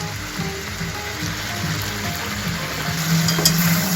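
Chicken frying in a pan with garam masala is stirred, giving loud close scraping and rattling mixed with a continuous sizzle, no voices.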